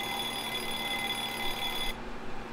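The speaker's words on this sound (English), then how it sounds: "Thank God, that alarm is so annoying." Steady electronic ringing of an alarm clock in a video game, loud and continuous, cutting off abruptly near the end and leaving faint background noise.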